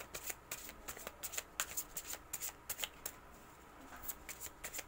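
Tarot cards are shuffled by hand close up, with quick quiet bursts of riffling and flicking paper in an irregular rhythm and short pauses between them.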